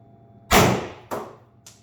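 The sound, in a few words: Pepperball TCP launcher shot into chronograph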